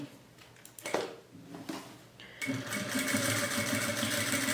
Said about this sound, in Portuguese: e costuro até chegar aqui embaixo